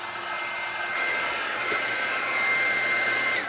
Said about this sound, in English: I'm going to hit this with a hairdryer, because we want this to be really dry before we go ahead